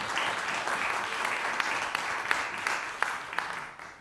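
Sustained applause from the audience at a Montego Bay Community College student award ceremony, a dense, even wash of many hands clapping with a few sharper individual claps standing out.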